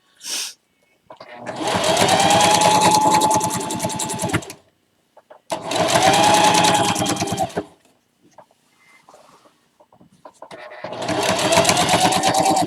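A sewing machine stitches through bulky fabric on an apron in three rapid, buzzing bursts separated by pauses, with faint handling noises between runs.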